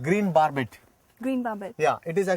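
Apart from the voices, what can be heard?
No everyday noises stand out.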